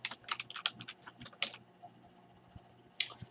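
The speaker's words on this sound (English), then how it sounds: "Over here, I could type in Miss Hicks and Miss Daniel." Quick, close clicking of keys on a computer keyboard in short irregular bursts, then a pause and a final few taps.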